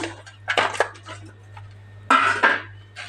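Kilo of fish pieces dropped into a kadai for Telugu fish pulusu, giving a few loud clattering bursts of metal cookware, with quieter handling clinks between them and a steady low hum underneath.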